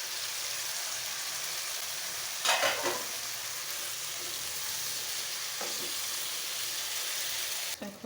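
Tomato, capsicum, potato and pumpkin pieces frying in hot oil make a dense, steady sizzle, with a louder burst of spatter and stirring near the middle and another brief stir later, close up with no voices.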